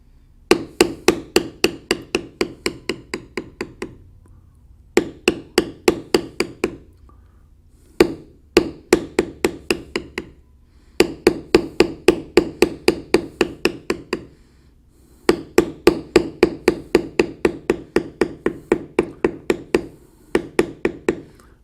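A hammer strikes a leather matting tool in rapid, evenly spaced taps on nearly dry leather. The sharp, close knocks come in five runs of about a dozen blows each, with brief pauses between the runs.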